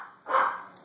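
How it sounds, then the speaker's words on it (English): A single dog bark, fairly close and clear, with a short yap or two trailing after it. "I hear dogs barking. Yeah, they're barking at the door."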